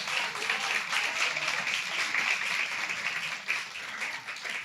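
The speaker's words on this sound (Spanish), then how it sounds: "Démosle un aplauso a Jesús." A church congregation applauds Jesus during a sermon, a steady wash of clapping from many hands held at an even level throughout with no voices standing out.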